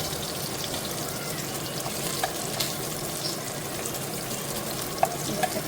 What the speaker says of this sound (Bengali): মাছগুলো ভালো করে ভাজা হয়ে গিয়েছে